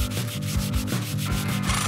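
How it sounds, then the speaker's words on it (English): Hand file rasping rhythmically against a workpiece in a comedic objects-as-people demolition skit, with repeated back-and-forth strokes over a steady bed of sound. "I'm definitely gonna need the file, though."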